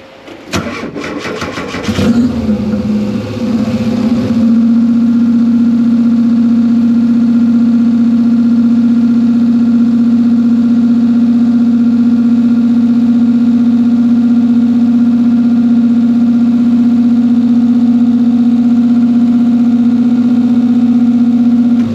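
A Subaru engine swapped into a 1973 VW Super Beetle cranks and fires, stumbles briefly, then holds a steady, close, loud fast idle for a long stretch with no talking.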